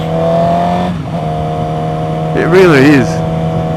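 A Japanese race bike engine runs with a steady, droning hum throughout, while someone speaks briefly over it near the end.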